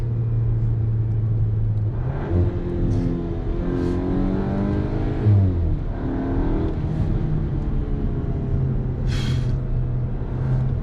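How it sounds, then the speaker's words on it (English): A 2022 Cupra Formentor VZ accelerates with a close, steady exhaust drone that surges in rising pitch sweeps, punctuated by a few short sharp bursts between gears, with no talking. "I hope that you can hear the sound, especially the exhaust."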